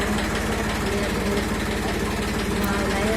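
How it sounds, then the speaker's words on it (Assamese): A tractor engine runs steadily as it drives out, a continuous close, loud rumbling throb with a regular low pulse lasting throughout, with some background voices mixed in. "এতিয়া ট্ৰেক্টৰ ওলাই গ'ল"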